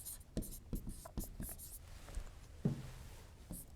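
Writing by hand, close and fairly quiet: a series of quick scratchy pen strokes and taps in irregular bursts, with one brief low thump partway through.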